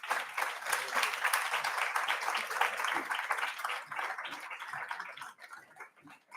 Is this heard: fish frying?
no